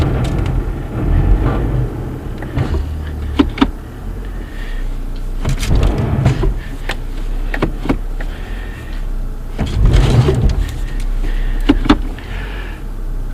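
A 2016 Toyota Corolla stuck in snow with traction control on, its engine given gas in surges that rise and fall, with whining and rumbling bursts, close and loud.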